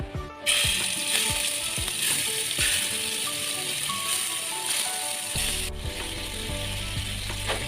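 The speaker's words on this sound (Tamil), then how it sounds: "இப்போது ப்ரான் மசாலா செய்கிறதுக்காக நம்ம ப்ரானை எண்ணெயில் பொரிச்சு எடுக்கலாம்" Prawns frying in hot oil for prawn masala, a dense continuous sizzle at close range, with clicking and rattling from utensils and a faint tonal hum underneath.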